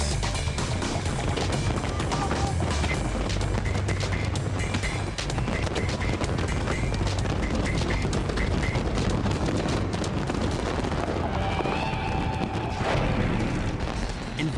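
Fireworks shells launched from barges explode over Lake Ontario before a huge crowd, a dense, continuous barrage of booms, crackles and thuds layered with loud, distant rumble and no clear pauses.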